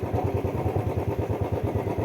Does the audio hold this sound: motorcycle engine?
yes